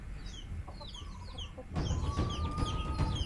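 Native free-range backyard chickens cluck and chirp nearby in short, repeated calls over a low outdoor rumble, with the activity growing busier and louder partway through.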